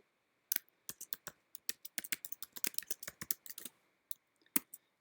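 Typing on a computer keyboard in a quiet room: irregular close clicks of keys, bunched into quick runs with brief pauses, ending in a few isolated taps.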